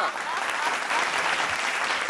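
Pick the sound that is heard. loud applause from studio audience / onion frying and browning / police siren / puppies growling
loud applause from studio audience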